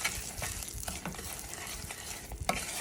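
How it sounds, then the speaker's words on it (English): Butter and sugar melt in a pan while being stirred, giving a soft continuous sizzle with scraping stir strokes, close up and without speech. "butter and sugar is melting together"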